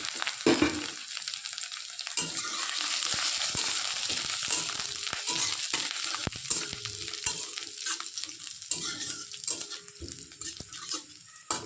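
Whole spices (ginger, cinnamon, cloves, cardamom) and bay leaves frying in oil for pulao, a steady close sizzle broken by frequent spoon scrapes and crackles as they are stirred.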